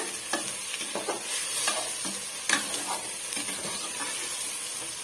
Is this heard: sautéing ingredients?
yes